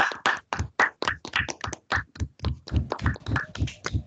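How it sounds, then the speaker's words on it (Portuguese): Clapping at an evening celebration for a philosophy graduate programme's 20th anniversary, heard as distinct, uneven sharp claps from a small group, close and loud, with gaps between bursts. "encerramos, então, nesse momento com uma grande salva de palmas para o nosso mestre e amigo, colega Álvaro Vaz"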